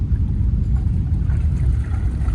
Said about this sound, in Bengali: এবার আমাদের নৌকাটা ঠেকে গেছে ঠিলে ভাসানো হচ্ছে